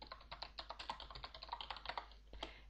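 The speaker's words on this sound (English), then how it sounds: "Typing tasks here" Rapid clicking of keys on a computer keyboard while entering a command in a text game, a steady close burst of keystrokes ending with a sharper final tap.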